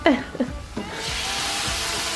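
A few brief voice sounds give way to a steady, broad hiss of chopped tomatoes sizzling in a hot pan, close and continuous.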